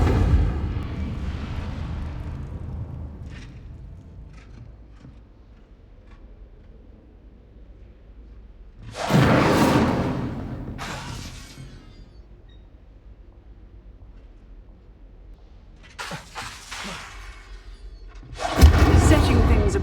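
The Incendio fire spell in Hogwarts Legacy sets things ablaze in several separate bursts. Each is a loud, roaring whoosh of flame, and quieter stretches of low, dying crackle fall between them.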